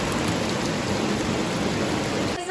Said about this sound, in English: It is raining heavily and look at the view.